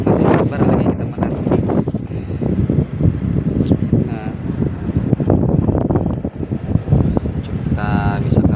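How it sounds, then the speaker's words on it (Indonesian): Strong wind buffets a fishing boat at sea, roaring and gusting across the microphone in loud bursts while people talk throughout. "Ini berhubung sudah anginnya terlalu kencang."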